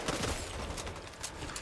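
Rapid gunfire in the zombie shooter Back 4 Blood, a dense, faint burst of shots running throughout with no talk over it.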